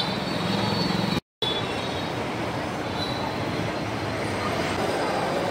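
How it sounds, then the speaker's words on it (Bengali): Train noise fills the Kamalapur railway station in Dhaka: a steady, loud rumble of rail cars and wheels with a faint squeal, briefly cut out by a short gap of silence, with no clear talk. "সবচেয়ে বড় রেল স্টেশন সামনের অংশ দেখতে পাচ্ছেন।"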